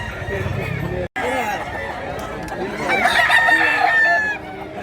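A fighting rooster crows loudly nearby, a long rising call, with faint voices and background noise around it.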